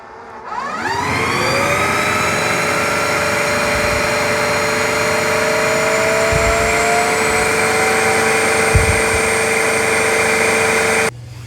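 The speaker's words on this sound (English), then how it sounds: "It's going to put a bunch of solution on the roller and then suck it up." A cordless Bissell CrossWave OmniForce Edge wet dry vacuum runs close and loud, a steady motor whine with rising tones at startup, then holding constant while cleaning a floor before cutting off.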